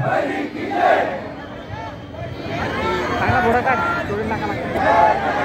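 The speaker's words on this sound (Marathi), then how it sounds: "एकदा जोरदार घोषणा देऊन सर्वांनी प्रोत्साहन द्यायचंय" A crowd at a Dahi Handi Govinda festival event chants 'Bol Bajrang' in loud, repeated group cries that swell and fade over a steady hubbub of voices.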